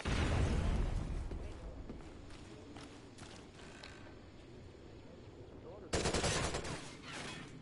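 Gunfire from a Call of Duty match, a burst of shots at the start and another sharp burst near the end, set against a low steady game background with faint voices.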